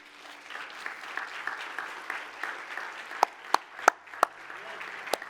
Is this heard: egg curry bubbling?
no